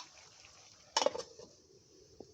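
A metal lid clanks down onto a cooking pot of prawn with taro stolons (chingri kochur loti): one sharp, rattling clatter with a few quick settling knocks, close by, then a faint later tap over a low kitchen hiss.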